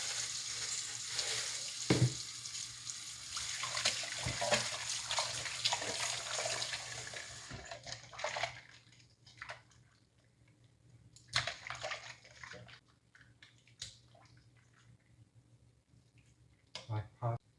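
Ugly fish are washed in salt water, with sloshing and splashing water loud at first, then thinning into intermittent drips, clinks and handling noises, while a voice talks over parts of it.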